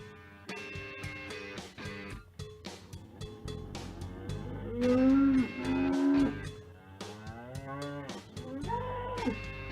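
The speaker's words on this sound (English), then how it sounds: "That was good until that cow licked at the door ring" A loose cow moos several times, long drawn-out calls that are close and clear, separated by shorter grunts and rustling with no talk.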